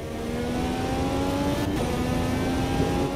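An IndyCar in the Automobilista 2 racing game revs hard after a clutch drop, a loud sustained engine roar with steady harmonic whine holding for the full stretch, no voices over it.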